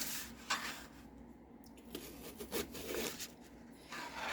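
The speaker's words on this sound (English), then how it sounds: "Now I'm going to slice this in half." A knife saws and rubs through a vegetable on a cutting board, quiet close scraping strokes and soft crunching in a few uneven bursts, faint and alone without talk.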